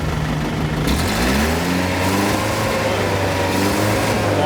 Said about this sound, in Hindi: अब इसको करेंगे स्टार्ट और इसको उसके बाद जो है वो थ्रॉटल देंगे।